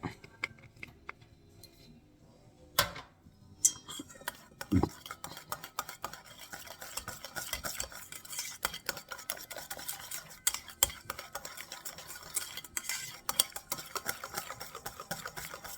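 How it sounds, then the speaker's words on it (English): A whisk works through a thick dressing with rice wine vinegar in a bowl for a seafood pasta salad, making rapid, uneven clinking and scraping against the sides, fairly close, with a few sharper knocks early on. "And you definitely want to use a whisk"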